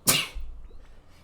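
One short, sharp sneeze close by, bursting out suddenly and then fading into quiet.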